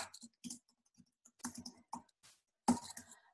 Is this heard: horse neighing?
no